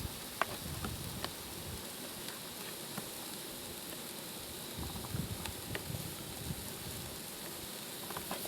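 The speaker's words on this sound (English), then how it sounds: "we're just going to put that in the pan with the onions and then fry it till it's brown" Pork and onions fry in a pan with a steady, quiet, close sizzle and hiss, broken by occasional faint pops and crackles, with no voices.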